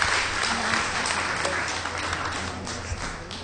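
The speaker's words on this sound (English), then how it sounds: "A warm applause to our 2013 awardee, Madam Seng." An audience applauds a 2013 award winner at an award announcement, with dense, steady clapping filling the room throughout and a voice briefly mixed in.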